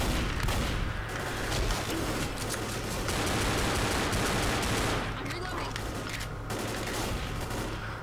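Sustained minigun and gunfire in the video game Left 4 Dead, a dense continuous roar of rapid shots with booming low end running through the whole stretch, briefly thinning in places.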